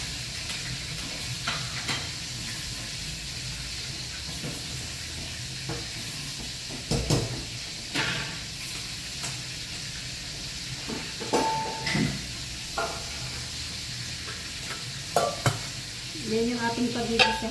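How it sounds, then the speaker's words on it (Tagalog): Mung beans sauté in a pan, a steady sizzling hiss with repeated scraping stirs and occasional clinks of a utensil against the pan, close and moderately loud. "Yan yung ating pagigisahan ng munggo."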